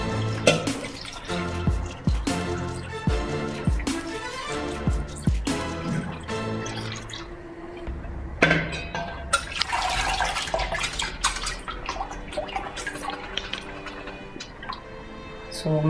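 Ice-cold water pours and splashes over freshly cooked broccoli to stop the cooking, with irregular drips, splashes and clinks of varying loudness across the stretch.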